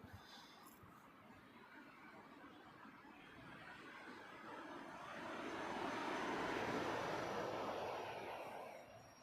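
An Air Baltic A220 airliner flies near Heathrow Airport, its engine roar rising to a broad peak as it passes overhead, then easing off, with faint background noise.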